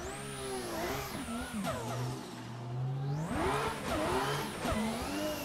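A rally car engine in a racing video game screams at full throttle, revving up and down through gear changes with sweeping pitch rises and falls and crackling anti-lag bangs, loud and continuous with no talking.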